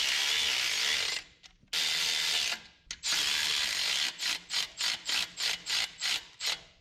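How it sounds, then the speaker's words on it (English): Ratcheting on the factory studs of a 1974 Datsun 620: close, crisp clicking runs in bursts with short gaps, then a quick series of evenly spaced short ratchet strokes. "Got to pull our factory studs out."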